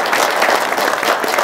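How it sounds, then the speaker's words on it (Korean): Loud audience applause at a Korean press conference denouncing a court ruling, dense steady clapping filling the whole moment without a break. "큰 박수 부탁드립니다"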